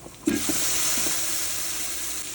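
Onions frying in a pan for mutton biryani give a steady, bright sizzle that carries through the whole stretch, opening with a brief clatter of stirring.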